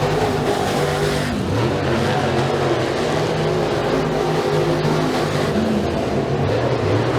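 Dirt-track heat race at Eriez Speedway, with late-model cars roaring around the oval in a continuous loud drone of engines and no break in the noise.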